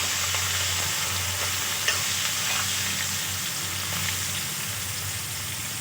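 Cut carrots fry in hot oil and ghee, giving a continuous, even sizzle up close with faint occasional stirring ticks and no voices.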